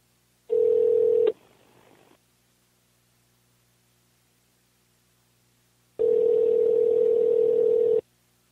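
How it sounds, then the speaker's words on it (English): Two long tone bursts of a telephone ringback on an outgoing call, each about one to two seconds, separated by a quiet gap of several seconds, clear and steady with no talk. "We're going to hear the phone ring and all that."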